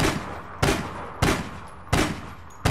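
Gunfire in the online game APB Reloaded: four loud, sharp bursts spaced about evenly, each a hard crack trailing off quickly, with no talk over them.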